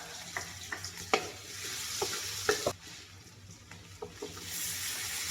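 Garlic sautés in a pan for fresh tilapia simmered in coconut milk, a steady close sizzle of frying punctuated by several sharp clinks and scrapes of a utensil stirring against the pan.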